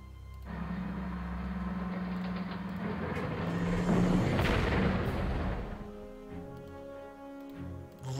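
Artillery fire in the WWII strategy game Panzer Corps, set in the North African Afrika Korps campaign: a sustained rumbling barrage that swells to a loud peak, then fades into lingering ringing tones, with no voices.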